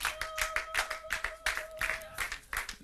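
A church congregation claps in a brisk, steady rhythm during a midnight worship service, a run of sharp, evenly spaced handclaps that sound fairly close but quiet overall.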